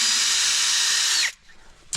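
A power tool, likely a drill or impact driver, whirs loud and steady while undoing the front engine mount nut on a high-mileage car, then stops abruptly, leaving near silence with a faint click at the end.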